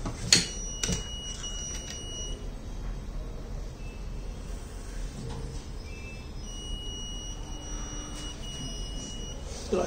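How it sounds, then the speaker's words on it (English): Repeated high-pitched electronic beeps from a smart blind stick's obstacle sensor sound over a steady background hiss, with a couple of sharp clicks near the start. "if any obstacle presents, so it will give the beep sound"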